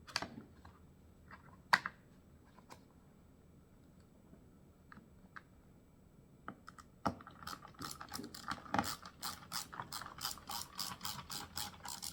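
A Phillips screwdriver drives screws into a racing wheel stand, with sparse ratchet-like clicks at first, then a dense, rapid run of clicking and grinding turns up close.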